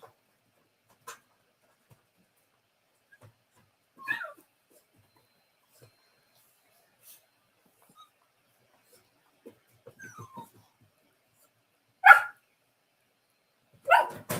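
Puppies bark and yip in short, scattered bursts at bedtime, some soft and whimpering, others sharper and louder toward the end, with quiet gaps between them.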